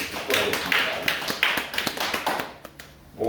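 A church congregation claps to welcome a returning elder, scattered hand claps swelling then thinning out and stopping near the end, with faint voices beneath.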